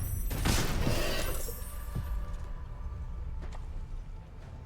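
A grenade explodes in the video game Baldur's Gate 3: one loud, broad blast near the start rumbles and fades, followed by a few faint knocks.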